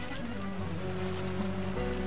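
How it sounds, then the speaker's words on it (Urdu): Steady rain falls in a continuous broadband hiss around a home, close and even throughout with no voices over it. "کتنی اچھی بارش ہے۔"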